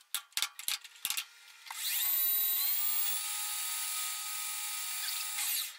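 A metal lathe turns a steel bar at about 750 RPM, a steady high whine that holds for several seconds after a few sharp clicks and taps, moderately quiet and with no voices.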